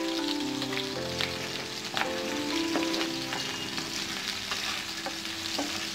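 Chopped onions and green chillies fry in a pan while being stirred, a steady close sizzle with repeated scraping clicks of the spoon throughout.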